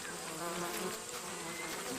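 A dense, continuous buzz of many bees swarming close by in their nest in Ethiopia, steady and fairly loud with no voices.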